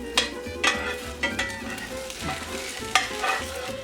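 A pancake fries in a big pan with a soft, steady sizzle, broken by several sharp spatula scrapes and knocks against the pan at uneven intervals, close up with no voices.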